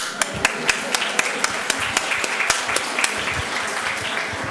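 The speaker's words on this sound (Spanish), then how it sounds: "Un aplauso para Vanessa." Light applause from a modest seminar audience, steady soft clapping with a few sharper individual claps standing out in a loose rhythm, fairly close and unaccompanied by talk.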